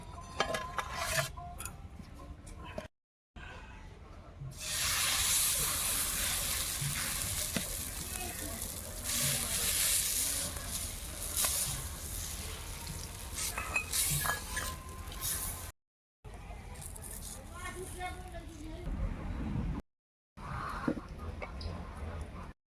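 Lentil fritters made from masoor dal fry in hot oil, a steady broadband sizzle running most of the time, with occasional clinks of a utensil and brief gaps of silence between takes.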